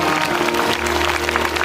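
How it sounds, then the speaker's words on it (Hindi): Loud, steady applause from an audience at a Bhagavat Katha religious gathering, a dense continuous patter with a sustained musical drone or hum underneath throughout. "इनके नाम की भी जोरदार तालियां बजाएं।"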